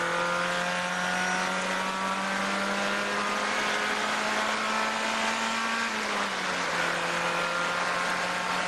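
A Spec Miata race car with a manual gearbox drones steadily on track from the onboard position, engine note holding high then dropping in pitch as a smooth gear shift occurs, loud and continuous with no talking.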